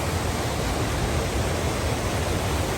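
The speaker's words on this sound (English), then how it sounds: "We're at the base of the waterfall now." Water pours steadily at the base of Cascada Peguche waterfall, a constant, even broadband rush close by with no voices.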